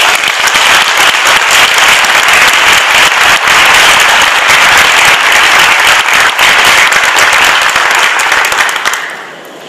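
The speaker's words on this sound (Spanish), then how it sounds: "para quien pido en este momento un fuerte aplauso" A large audience gives strong, sustained applause at a formal tribute ceremony honoring Margarita Beatriz Luna Ramos, a loud dense roar of clapping holding steady for several seconds before tapering off at the end.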